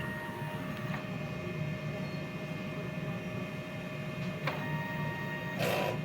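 A DTF printer runs a head clean cycle, giving a steady mechanical whir with faint tonal hums and a few brief clicks and taps near the end.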